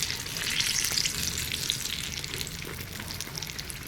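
Capsicum frying in a pan makes a dense, even sizzle with fine crackling, close and steady from start to finish with no talking.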